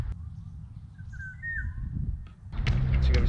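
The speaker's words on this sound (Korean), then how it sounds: "새들이 노래도 불러" Birds sing outdoors at a riverside campsite in Jincheon, Chungbuk, a brief high chirping phrase heard at moderate distance over wind and low rumble, followed by louder rustling noise.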